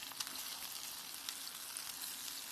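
An omelet fries in a pan with a soft, steady sizzle. The crackle is quiet and even throughout, with faint pops scattered through it and no voices.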